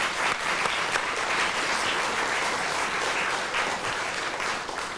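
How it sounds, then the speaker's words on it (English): Warm applause from a studio audience in a quiz programme honouring both teams, dense and even clapping at a constant level for several seconds. "could we have a round of applause for both teams?"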